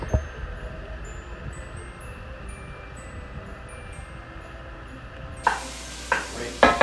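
Onions cook in a pot for butternut squash soup with a low, steady sizzle and faint stirring, then louder clattering and scraping of a utensil against the pot near the end, with no voices.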